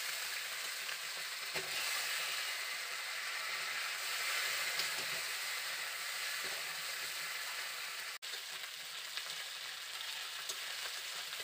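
Broken pieces of rohu fish head frying in a pan, a loud, continuous close sizzle and hiss with occasional spatula clicks and one sharp tap, no talk.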